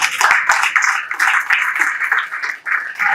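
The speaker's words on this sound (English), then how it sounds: "I want you to give a round of applause for this." Audience applause at a national research symposium award ceremony, a dense burst of many hands clapping that holds strong and close for about three seconds with a brief dip near the end.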